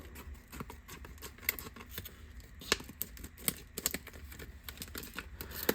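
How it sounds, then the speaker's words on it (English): Close, crisp snipping and crinkling of plastic packaging for a Feit color-changing LED party bulb, with irregular sharp clicks and rustles as scissors cut through it. "let's get some scissors here and we'll open up the packaging"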